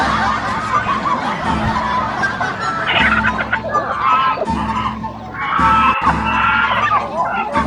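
A red rooster clucks and squawks in loud, agitated bursts, with chicken calls overlapping nearby voices and laughter in an outdoor village setting.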